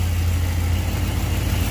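A 1987 Chevy V-3500 dump truck engine idles steadily with a deep, even low rumble and a slight exhaust leak, close and continuous with no talk over it, inside a smoky shop.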